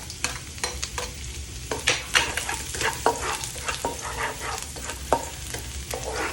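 Garlic rice fries in a pan with a continuous sizzle, broken by frequent scraping and clattering strokes of a spatula stirring the rice.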